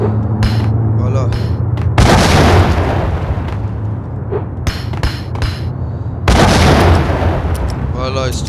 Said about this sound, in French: J'ai bien envie de lancer une grenade